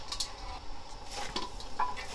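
Taro stems are dropped into a pot of boiling salted water, giving soft splashing, stirring and faint clinks of the pot over a low bubbling background, quiet and close, with no talking.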